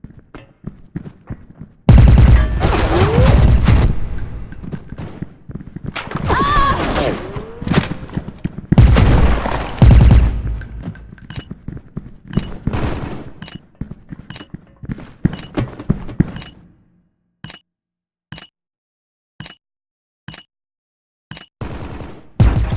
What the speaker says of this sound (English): Nice shot, Kurama.